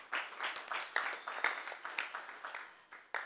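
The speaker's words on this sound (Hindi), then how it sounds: "जोरदार तालियां" Scattered clapping from a small group, uneven and fairly faint, with individual claps standing out irregularly over a few seconds.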